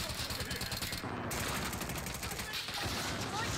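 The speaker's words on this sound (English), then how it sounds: "The enemy is firing at me!" Enemy gunfire rattles in the video game Warzone as dense, continuous rapid bursts at close range, with a brief break partway through and faint voices underneath.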